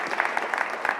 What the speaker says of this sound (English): Can we give them a huge round of applause for today's conference?